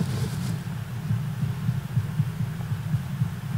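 A low, pulsing hum from a treasure chest in Fortnite throbs in a steady rhythm beneath faint ambient noise, a soft repeated drone.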